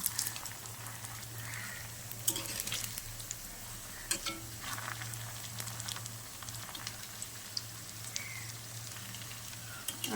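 Cabbage pakoras fry in oil over medium heat while being turned, giving a continuous sizzle broken by scattered small clicks and scrapes, close by with no one talking.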